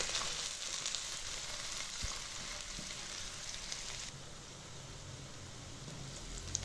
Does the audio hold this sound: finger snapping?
no